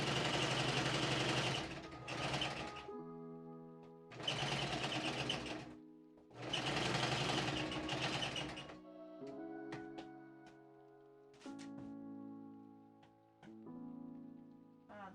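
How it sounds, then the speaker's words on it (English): A sewing machine stitches corset fabric in three loud, even bursts of fast needle chatter, each a couple of seconds long with short pauses between, followed by quieter mechanical sounds. "I forgot to check the tension on my sewing machine"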